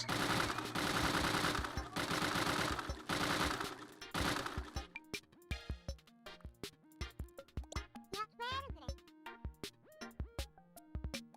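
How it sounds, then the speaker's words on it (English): Rapid bursts of projectile fire from a small UFO in the Game Builder Garage video game, loud overlapping shots at first, then thinning into sharp scattered pops and blips with no talk over them. "press B to fire a few projectiles"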